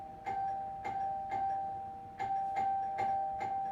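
A house doorbell chimes repeatedly in a quick, even rhythm, about eight bright ringing tones with short decays, moderately quiet in an indoor room with no voices over it.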